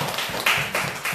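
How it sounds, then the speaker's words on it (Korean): A church congregation claps in a short, loose burst of uneven hand claps in a room, fairly close and moderately loud. "박수 한번 쳐줍시다."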